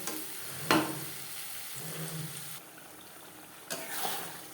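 Bhetki fish fat melting with onions in a hot pan gives a quiet, steady sizzle, with a few brief louder bursts of frying and stirring over a soft background crackle.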